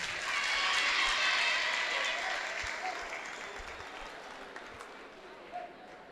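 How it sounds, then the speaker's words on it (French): A school crowd of pupils and teachers applauds a military band detachment at an integration and solidarity festival, loud sustained clapping that gradually fades, with voices mixed in. "je voudrais, chers élèves et chers professeurs, que vous applaudissiez encore ce détachement"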